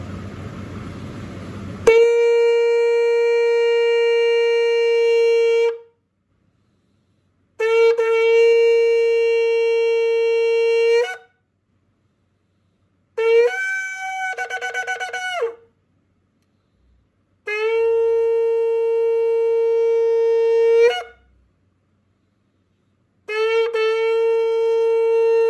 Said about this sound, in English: Come, let's hear the sound of the shofar.